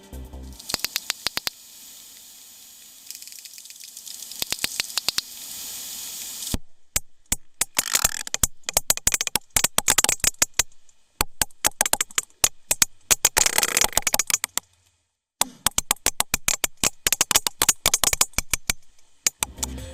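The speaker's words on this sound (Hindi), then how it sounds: "व्हेल का ये ऑडियो आपने ध्यान से सुना होगा तो इसमें आपको क्लिक की आवाज बार बार सुनाई दी होगी" Recorded sperm whale clicks come in rapid trains of sharp broadband ticks, sometimes dense and buzzing, sometimes sparse, separated by short silences over a faint hiss.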